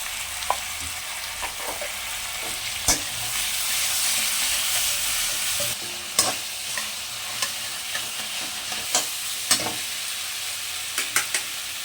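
A spoon stirs a spicy dried fish curry with green chillies and salt in a hot pan, giving a steady oily sizzle broken by sharp scraping clicks at irregular intervals, close and alone.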